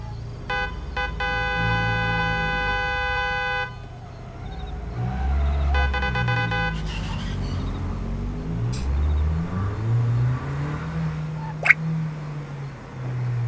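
A video-game car engine revs and accelerates in repeated surging pulses, mid-loud and close, with a sustained synthetic horn-like tone sounding over the first few seconds and brief clicks later.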